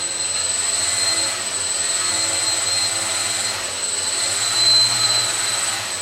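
An AeroQuad quadcopter in X-mode runs its motors on a test bench, giving a loud, continuous electric whine with high tonal lines and slight surges in pitch and level.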